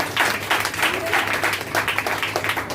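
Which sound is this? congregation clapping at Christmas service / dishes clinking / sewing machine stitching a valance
congregation clapping at Christmas service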